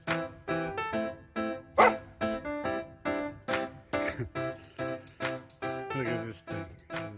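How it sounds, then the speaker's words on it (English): A dog barks repeatedly up close in loud, evenly spaced bursts, with some higher yips mixed in, and no talking. "Who's barking?"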